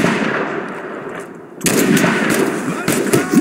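Gunfire in the video game Mud and Blood: a loud burst of shots, a brief lull, then renewed heavy firing with sharp cracks standing out over a dense battle din.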